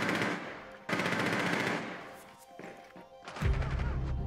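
Gunfire in Rainbow Six Siege rips through a wall in loud, rapid automatic bursts, with heavy impacts and crashing debris between the volleys, close and harsh, and no talk over it.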